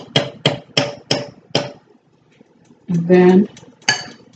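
A spoon clanks against a pot while a cup of Budweiser is stirred into a crab mixture: five sharp metallic knocks in a steady beat, a pause, then a short spoken phrase and another clink.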